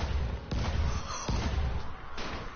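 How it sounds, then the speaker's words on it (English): Explosions in a PS4 video game, several heavy booming bursts over a dense rumbling background, loud and close with no talk. "Explosion!"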